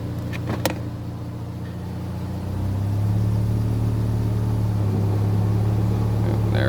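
Mazda RX7 FC rotary engine, idling as the car is put in gear while a suspected bent hub or warped brake rotor is checked, with a close, steady hum that deepens and strengthens partway through and then holds as a steady drone.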